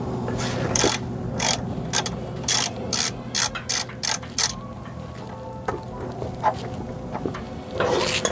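A 14mm socket on a ratchet loosens the oil drain bung on a Nissan Navara with the YD25 engine, giving a run of sharp, close ratcheting clicks in bursts, then quieter handling noises.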